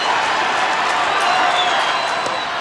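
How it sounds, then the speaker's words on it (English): The crowd at Comerica Park, on its feet at a Detroit Tigers baseball game, sends up a steady, dense roar of cheering that holds at one level for a couple of seconds. "And the crowd on its feet at Comerica Park."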